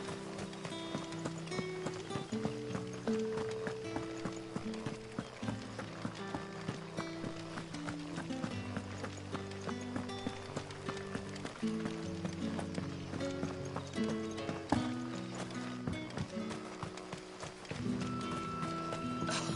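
Horse hooves clip-clopping in a steady trotting rhythm as a rider travels in Final Fantasy XVI on PS5, the footfalls moderately close and layered under background music, with no speech.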